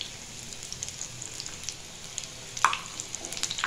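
Chicken Russian cutlets shallow-fry in oil to brown, giving a faint, steady crackling sizzle with a few sharper pops, heard close and alone without talk.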